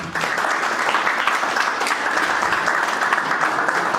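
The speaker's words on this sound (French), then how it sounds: "Est-ce qu'on peut applaudir pour ça?" Steady, dense applause fills a graduation ceremony hall in Togo, holding an even loudness throughout with no voices breaking through.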